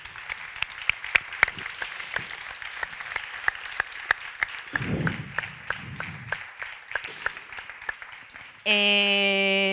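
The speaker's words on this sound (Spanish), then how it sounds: "Así que también un aplauso para Jerónimo por su vida." Steady applause from a conference panel audience in the Canary Islands, many hands clapping at a moderate level, ending abruptly as a brief tonal sound takes over.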